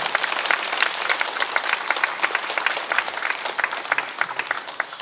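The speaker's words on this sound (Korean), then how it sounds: "우리 주님께 영광의 박수 돌리겠습니다" A church congregation at a Korean prayer meeting breaks into sustained applause, dense overlapping claps filling the room steadily from start to finish.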